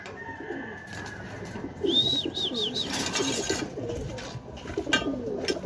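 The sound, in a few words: racing pigeons cooing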